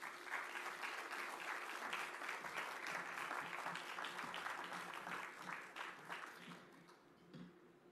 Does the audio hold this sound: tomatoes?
no